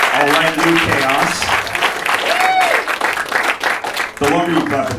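Stand-up comedy show audience clapping in a dense, steady wash that runs the full length, with the comedian talking over it near the start and again at the end.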